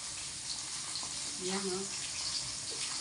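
Water is run into a container for soaking and washing, making a steady, fairly loud rushing hiss throughout, with a person briefly speaking over it.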